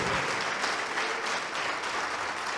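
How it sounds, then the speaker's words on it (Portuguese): Dense, steady applause from a church congregation honoring the name of Jesus, a continuous wash of many hands clapping together at even loudness with no voices standing out. "Vamos aplaudir alto o nome de Jesus. Vamos aplaudir muito o nome do Senhor."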